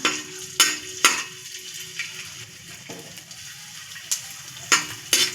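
Small pieces of edible gum (dink) puffing up in hot fat in a pan, a steady soft sizzle broken by several sharp stirring clicks and scrapes of a spoon against the pan, with no talking.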